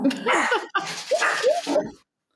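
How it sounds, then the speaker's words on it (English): Dogs give a few close, loud yelping barks and whiny yips in quick bursts indoors, over about two seconds before falling quiet. "here's the dogs barking at who knows what."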